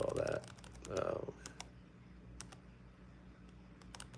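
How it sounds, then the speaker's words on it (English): Typing on a computer keyboard comes through as faint, scattered clicks and taps after a voice speaks briefly at the start, the keystrokes sparse and irregular against a quiet room background. "I started typing in the wrong window."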